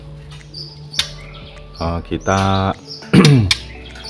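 A caged trotol bird from Kebumen gives a few sharp chirps and short trilling calls, close and loud, with someone speaking briefly between the calls.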